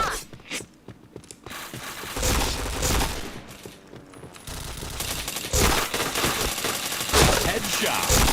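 Rapid bursts of automatic gunfire and single shots from a Point Blank online shooter match, loud and dense, with clustered volleys repeating throughout and a few faint voices under the fire.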